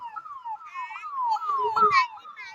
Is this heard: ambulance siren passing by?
yes